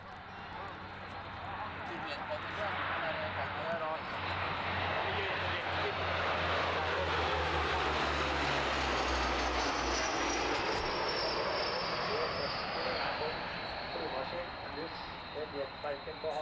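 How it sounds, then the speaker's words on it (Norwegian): Large aircraft pass overhead in a tight close formation at the 1992 Gardermoen airshow, a loud sustained engine roar that swells and sweeps across with a rising whine, while a commentator talks over it. "Og her kommer de altså over i en formasjon, en veldig nær formasjon til å være så store fly."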